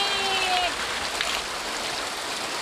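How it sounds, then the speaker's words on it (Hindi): Cold Ganges water pouring down steadily in Uttarakhand, a broad close hiss like a shower of falling water, continuous and fairly loud, with a brief tonal whistle near the start. "ठंडा पानी पड़ रहा है"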